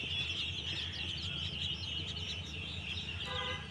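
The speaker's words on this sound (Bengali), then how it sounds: "আট থেকে দশ দিন বয়সের ফাউমি মুরগি" A group of Fayoumi chicks, eight to ten days old, chirp continuously in a dense, high-pitched chorus that stays fairly steady and close throughout.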